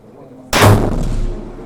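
A single loud, close rifle shot from a Browning X-Bolt at shooting-range practice, a sharp crack followed by a booming tail that fades over about a second.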